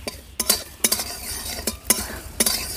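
Whole spices dry-roast in a very hot, oil-free wok, stirred in quick bursts of scraping and rattling with light metallic clinks between short pauses.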